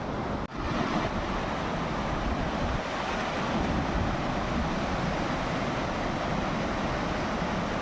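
Sea waves make a steady, unbroken roar of surf that is broad and fairly soft, with wind buffeting the microphone and no voices heard.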